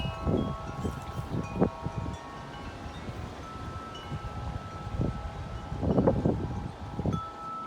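Strong wind gusts on a blustery day ahead of a storm, a steady low rumble and microphone buffeting that swells into several louder bursts, with faint rustling in the background.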